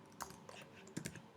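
Computer keyboard typing: a handful of quick, light key clicks in a short burst, close and fairly quiet, with no talk over them.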